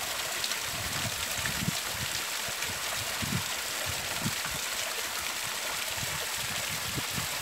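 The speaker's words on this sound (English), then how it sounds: "I am going to fill up my container with fresh Mount Wellington spring water." Fresh spring water on Mount Wellington runs steadily into a container, a loud, close, continuous rushing and gurgling stream with no talking.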